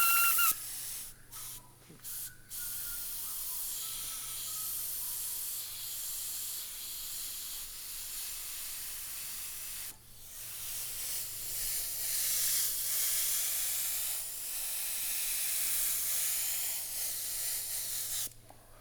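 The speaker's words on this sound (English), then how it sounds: "I put my finger over the tip and pull back with the airbrush" Airbrush spraying paint on a Rat Fink 1969 Camaro model, a steady close, loud airy hiss running almost continuously with a few brief breaks.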